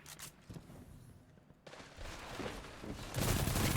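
Rapid pulse rifle and submachine gun fire in a Destiny multiplayer match (Guardian Games 2023), bursts of shots crackling at moderate distance and building louder toward the end.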